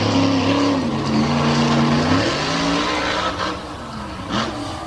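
A Quad Chaos monster truck on a freestyle run at Selinsgrove Speedway roars loudly, its engine revving and shifting pitch, then easing off and surging again near the end.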